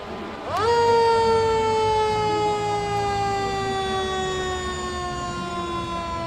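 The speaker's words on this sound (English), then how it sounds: "you can hear the sirens of those fire trucks" Fire truck sirens wail loudly at a Santa Claus parade in London, a steady rising then slowly falling tone with rich harmonics that holds for several seconds, no talking over it.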